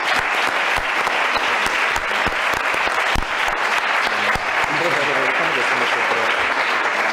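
An audience at a live on-air broadcast from an art museum applauds with loud, sharp claps and cheering, and a voice speaks briefly near the end.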